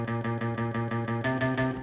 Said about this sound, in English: I just wanted like a super choppy like guitar sound